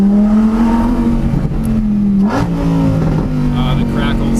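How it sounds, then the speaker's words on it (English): A Lamborghini Huracan Performante engine revs loud and close on a canyon road, the tone rising and dropping between gears with exhaust crackles and pops, while someone talks over it. "You know you're in a Huracan with the crackles."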